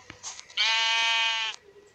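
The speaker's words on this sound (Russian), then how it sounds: "О, овцы." A single sheep bleat in a survival video game, a short wavering nasal cry lasting about a second, clear and close over near silence, preceded by a faint brief click.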